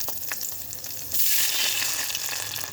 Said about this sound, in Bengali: এটার মধ্যে দিয়ে দিচ্ছি কালো সর্ষে এটার মধ্যে দিয়ে দিচ্ছি কারি পাতা দিয়ে এটার মধ্যে এবার একটু জল ঢেলে দিচ্ছি